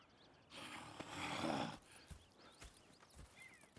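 Horses in Red Dead Redemption 2 give a breathy snort and whinny, followed by faint hoof thuds and shuffling nearby, fairly quiet overall.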